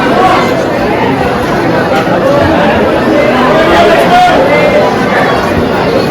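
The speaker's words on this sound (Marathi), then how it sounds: "भरपूर गर्दी आहे आज." A large crowd of devotees at the Akkalkot Swami Samarth temple on Datta Jayanti, a steady close murmur of many voices blending into one dense babble throughout.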